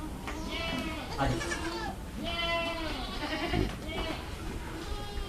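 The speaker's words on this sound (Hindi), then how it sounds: "ये बर्बरी की बकरी है" Barbari goat on a farm bleating several times in wavering, nasal calls, fairly close, with someone talking over and between the bleats.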